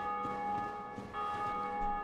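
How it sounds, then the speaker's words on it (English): Sustained tolling of a bell inside Dark Souls Remastered, a steady ringing tone that holds for the whole moment alongside low rumbling game ambience, with no talk over it. "I think there's a bell in here."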